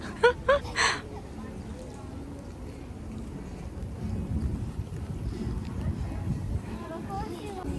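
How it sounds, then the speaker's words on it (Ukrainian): Wind rushes and buffets against the microphone in a low, steady roar that builds a little stronger, after a few brief voices at the start, at the Karpatiya water park in Mukachevo. "вітер дме прямо на мене"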